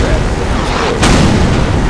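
Mortar blasts in the video game Half-Life 2, a loud dense rumbling roar with one sharp boom in the middle, continuous over the two seconds and mixed with game noise.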